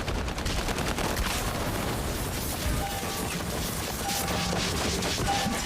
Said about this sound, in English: they're just throwing all types of grenades.